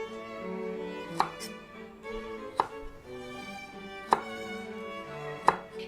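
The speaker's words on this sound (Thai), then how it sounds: "วิธีหั่นบวบของป้าป้อมนะคะแม่สอนให้หมุนไปเรื่อยๆอย่างนี้ค่ะ" A knife chopping peeled luffa gourd on a cutting board while the gourd is rotated between cuts, four sharp, evenly spaced chops over steady kitchen background hum.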